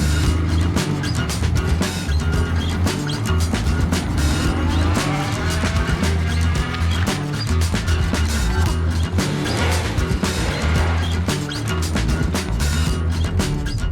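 A Peugeot 106 with a 1.4 litre petrol engine drives around a scrapyard. A steady engine drone carries through with tire noise and bumps, close and loud throughout.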